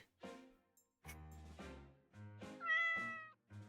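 A cat meows in the video game Paper Perjury, several short, close meows in a row with one longer rising cry near the end, with no other sound.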